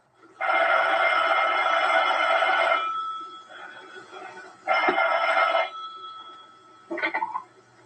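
An old-fashioned telephone bell rings loudly in long rattling bursts, one extended ring, then a shorter one, then a brief final jangle, with quiet pauses between them.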